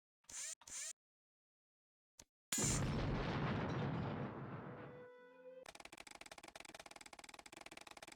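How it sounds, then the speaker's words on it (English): A chemical explosion in a Nancy Drew game at a castle silo: a few sharp clicks, then one loud booming blast that rumbles and fades over a couple of seconds into a steady electronic buzz. "The chemical explosion blew the silo doors wide open"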